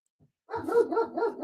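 A dog barks several times in quick succession, nearby and fairly loud, after a brief faint sound at the start, with no talk over it.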